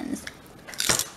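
Close crunchy bites into celery with hummus at breakfast, two short crisp crunches, the louder one near the end, with faint mouth sounds between.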